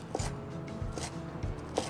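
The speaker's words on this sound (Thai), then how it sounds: "เวลาหั่นผมหั่นเป็นท่อน หั่นเป็นท่อนๆอย่างนี้ ไม่ใหญ่มากครับ" A knife chops white garlic chives into short pieces on a cutting board, giving soft, evenly spaced taps about every half second, faint and close, with no talking.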